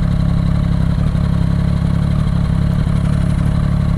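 Triumph Street Triple 675R with an inline three-cylinder engine idling in traffic at a signal, a loud, close, steady low rumble with a fine mechanical clatter, unbroken throughout.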